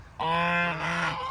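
A single drawn-out honk from a mature goose, loud and close, with a nasal buzzy tone lasting about a second.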